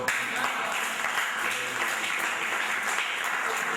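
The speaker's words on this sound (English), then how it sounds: "round of applause" An audience at a book launch applauds steadily, a dense, moderately distant patter of clapping that holds even throughout with no voices rising above it.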